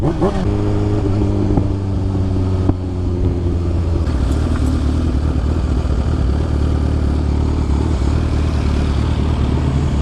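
Kawasaki Ninja H2 motorcycle engines, two bikes, running close by with a loud, continuous throaty roar and rising revs that hold steady throughout, with no clear speech over them.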